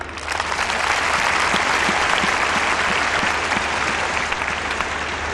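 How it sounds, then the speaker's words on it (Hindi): Audience at a Hindi church sermon in Chandigarh claps for themselves: dense, sustained applause from a large crowd filling the whole stretch at steady, loud level, with no voices over it. "अभी अपने लिए ताली बजाइए।"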